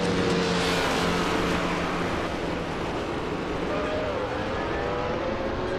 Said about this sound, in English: 398 is driving a 1958 Lotus 12